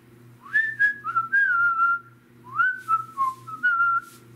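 Human whistling of a pop song's melody, two short sliding phrases with a pause between, moderately loud over a low steady hum.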